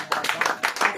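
A church congregation applauds together in quick bright bursts of clapping, close and loud, with a voice faintly present.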